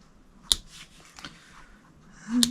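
Scissors snip through a ribbon wrapped three times and knotted around a chocolate-covered Peep treat box. Two crisp, quiet snips land about two seconds apart with near-silence between them.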